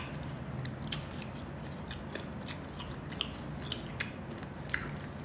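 Crunchy unripe mango is bitten and chewed up close, giving repeated crisp crunches and wet squishy mastication over a couple of seconds with no talking.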